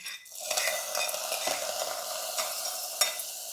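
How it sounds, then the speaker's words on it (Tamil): Sizzling hot tempering poured into a mushroom kuzhambu, a loud fizzing hiss that flares and then settles into steady crackling sizzle, with a clink of a pan near the end. "ஆஃப் பண்ணிவிட்டு நம்ம குழம்புல ஊற்றிடலாம்"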